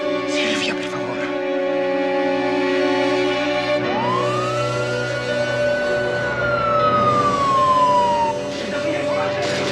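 A steady ambulance siren wail rises and slowly falls, loud and close, over a dense wash of sustained tones and background noise.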